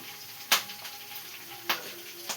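Quiet oil sizzle of tempering mustard seeds, cumin, dried red chillies and curry leaves, with three sharp pops or crackles spaced across the clip, close by, with a faint steady hum underneath.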